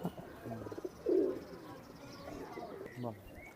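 Pakistani-breed Teddy pigeons kept for sale coo close by, with one fuller throaty coo standing out briefly against a low murmur of background sound.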